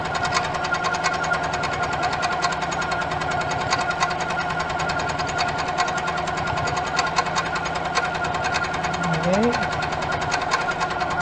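A quilting sewing machine runs at a constant 600 stitches per minute, giving a steady, close, rhythmic mechanical chatter throughout, with a brief squeak near the end.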